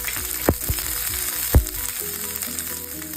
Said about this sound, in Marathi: या तेलामध्ये मी सात आठ लसणाच्या पाकळ्या आणि एक इंच आल्याचा तुकडा घेतला आहे त्याला मी व्यवस्थित इथे परतून घेणार आहे